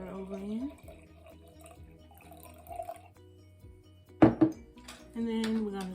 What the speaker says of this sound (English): So we're going to pour the water over in,